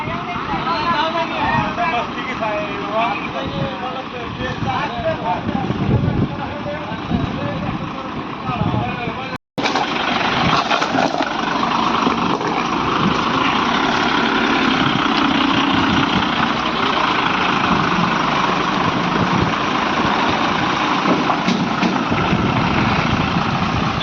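A vehicle engine runs steadily while reversing onto an alternate road beside roadworks, a loud continuous rumble with a brief dropout partway through and voices talking over it.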